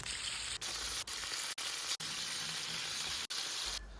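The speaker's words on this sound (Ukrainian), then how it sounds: "викладаю наші курячі крученики і підсмажую її з обох боків до золотистого кольору" Steady, close sizzling of chicken rolls frying in hot oil in a pan, a continuous crackling hiss broken by a few brief dips.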